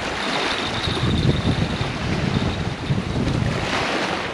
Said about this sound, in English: Guys, it's so windy out here.